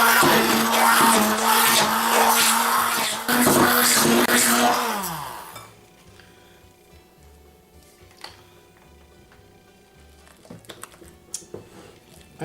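An electric mixer whirs loudly through tea cake batter with a steady motor drone for about five seconds, then winds down and stops, leaving quiet kitchen clatter.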